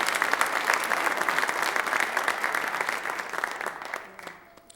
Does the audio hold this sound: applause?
yes